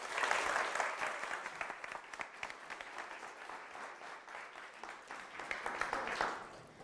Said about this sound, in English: Will you please give a huge round of applause for our next speaker of Child Talks 2022.